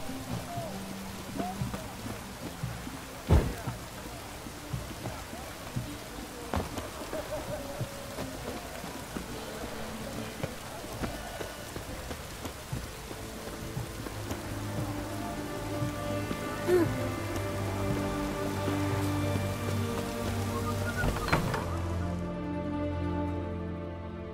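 Continuous rain falls in the video game The Witcher 3: Wild Hunt in a soft, even patter, joined later by sustained musical tones that fade out at the end.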